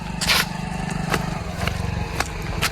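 A motorcycle engine runs nearby with a steady low throb that shifts in pitch as it moves, broken by a few sharp clicks and scrapes.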